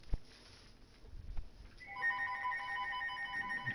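A telephone rings in a wrestling event setting, its trilling electronic tone starting partway through and repeating steadily, fairly faint and distant over low room noise.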